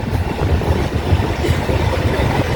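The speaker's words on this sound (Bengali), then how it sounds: "এই হচ্ছে ব্লু লাইন মেট্রো," A Kolkata Blue Line metro train passes near Dum Dum, a loud, close, continuous rumble of wheels on rails over the whole short stretch.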